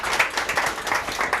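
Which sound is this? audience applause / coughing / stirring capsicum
audience applause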